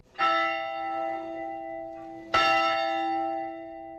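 A church bell rings out twice, each loud, bright strike followed by a long, slowly fading hum of layered tones, with the second stroke landing about two seconds after the first.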